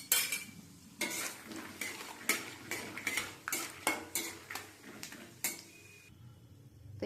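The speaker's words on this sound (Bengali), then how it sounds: "এবারে কি কাঁচা বাদামটা হালকা করে একটু ভেজে নেব" Raw peanuts being stirred in hot oil in a wok: a rhythmic rattle of nuts and spatula knocking against the metal, roughly one clatter per half second, close up, over a faint sizzle and with no voices.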